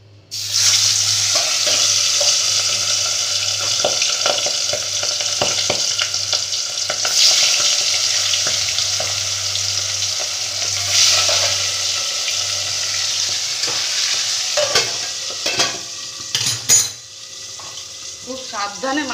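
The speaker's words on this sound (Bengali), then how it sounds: "দেখো আমি এই যে ঢাকা দিয়ে দিয়ে মাছগুলোকে ভেজে নিচ্ছি।" Fish frying in hot oil in a covered wok for a Bengali aloo fish curry give a steady loud sizzle throughout, with occasional clinks and scrapes of utensils near the end.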